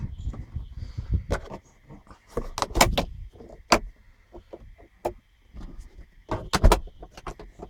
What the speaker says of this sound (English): what I'm going to attempt to do now is to open the hood